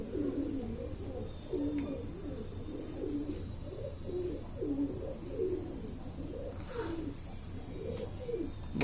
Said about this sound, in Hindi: भाई ये हैदराबादी कबूतर है